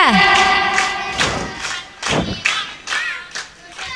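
A group of schoolchildren claps in counted rhythmic patterns, bursts of several loud claps separated by short pauses, with crowd voices and shouts mixed in.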